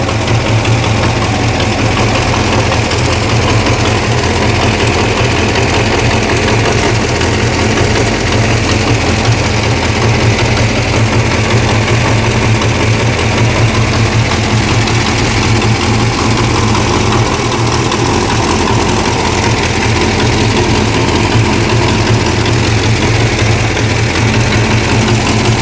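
A neglected 1969 Plymouth Barracuda engine idles with an exhaust leak, giving a steady, loud, low rumble with a rough, ticking texture. It runs close and unbroken throughout.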